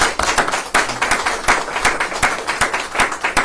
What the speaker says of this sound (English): I'd like to give our panel a round of applause